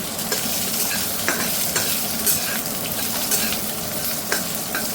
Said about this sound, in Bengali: দিয়ে এটা একটু ভাজা ভাজা করব।